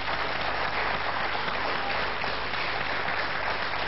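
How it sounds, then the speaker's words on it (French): A game-show audience claps steadily for two contestants, a dense, continuous wash of applause that holds at an even level throughout with no voices over it. "Applaudissements pour Rafik et Margot."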